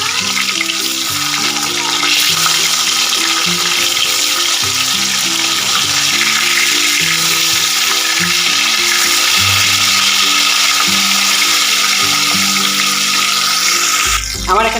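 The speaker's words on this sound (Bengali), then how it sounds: "আমার মাছের এক পিঠটা ভাজা হয়ে গেছে এবার আমি অপর পিঠটাকেও উল্টে দিচ্ছি" Rohu fish frying in hot oil after being flipped, a loud, steady sizzle that stays close throughout and ends with a brief clatter.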